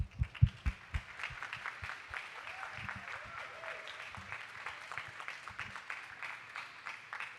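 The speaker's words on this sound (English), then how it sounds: "let's do a round of applause for all of our speakers." An audience at a capture-the-flag competition's opening ceremony gives a round of applause for the speakers, a few sharp close claps at first, then sustained, even crowd clapping that carries on steadily, fairly soft and distant.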